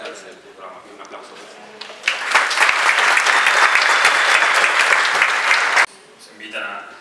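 Audience at the Mar del Plata Film Festival bursts into loud, dense applause after a short stretch of talk, clapping sustained for several seconds before stopping abruptly, with a voice resuming afterward.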